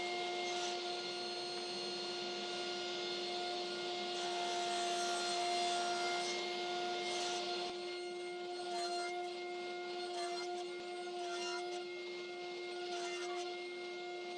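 A table saw cuts small pieces of wood for snowflake ornaments under a steady motor hum, with a few short rasping cuts standing out against the drone.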